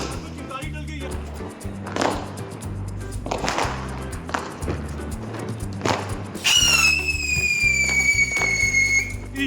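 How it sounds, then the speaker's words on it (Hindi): Diwali firework rocket launching: a sharp rising whistle-like shriek bursts out near the end, following a series of crackling pops and bangs, with excited talking throughout. "तो गाइस मैं अब चला रहा हूँ रॉकेट यार, बहुत जबरदस्त है"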